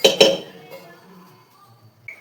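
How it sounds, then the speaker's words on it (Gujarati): Kitchen utensils and dishes being put away, with two sharp clinks near the start and then softer scattered rattles, plus a small clink at the end. "ચાલો વાસણ ને એવું બધું ગોઠવી નાખીએ"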